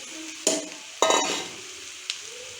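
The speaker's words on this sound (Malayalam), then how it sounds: "ഇനി നമുക്ക് നമ്മളെ വേവിച്ച് വെച്ച കടച്ചക്ക ഇതിലോട്ട് ചേർത്ത് കൊടുക്കാം" Cooked breadfruit is stirred into sautéed onions in a pan, making a few short bursts of scraping and soft sizzle separated by quiet pauses, with no talking.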